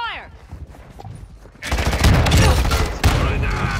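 Gunfire rattles in the video game Call of Duty: Modern Warfare II, with scattered quiet shots at first, then a loud, rapid automatic burst that continues with a brief break partway through.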